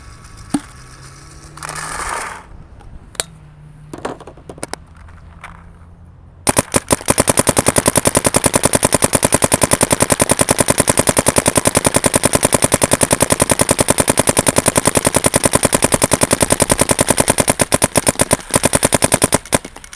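Dye M3+ paintball gun firing a long, rapid string of sharp shots at a steady rhythm, loud and close, after a few seconds of quieter handling clicks and knocks beforehand.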